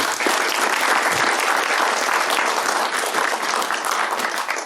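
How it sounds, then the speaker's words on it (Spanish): A loud, dense round of applause greets a museum director at a book presentation in Cusco, sustained and even with no talk over it, tapering off at the end. "brindamos un fuerte voto de aplauso"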